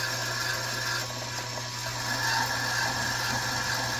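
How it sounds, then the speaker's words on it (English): A primer crimp removal tool cuts into the primer pocket of a brass cartridge case, giving a steady, close scraping and grinding rasp that runs without a break, with no talking. "You can hear it remove, little brass shavings getting taken off."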